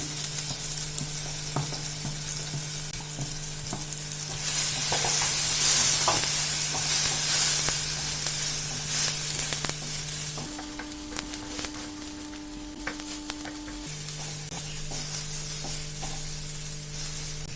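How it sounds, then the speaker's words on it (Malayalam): Chili powder and spices fry with tomato in a pan for a Kerala-style fish curry: a steady, close sizzle runs throughout, with occasional stirring scrapes and no voices. "ഇനി നമുക്ക് പൊടികൾ ഇട്ടിട്ട് ഒന്ന് പതുക്കെ ചൂടാക്കി അതിന്റെ പച്ചമണം പോകാൻ വേണ്ടിയിട്ട് ഒന്ന് പതുക്കെ ചൂടാക്കണം"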